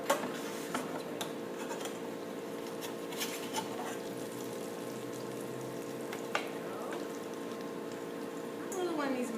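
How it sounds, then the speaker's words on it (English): Zucchini potato fritters sizzle in a pan with a steady, soft crackle and bubbling, broken by a few small clicks and taps of utensils, while a person talks. "That little one needs maybe to fry longer."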